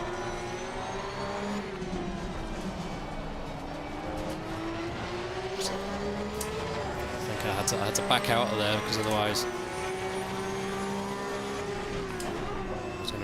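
Porsche 992 Cup race car engines at Spa Francorchamps, a loud sustained flat-six drone with rising and falling revs and shifts, surrounding cars roaring close by, while a driver talks over the noise.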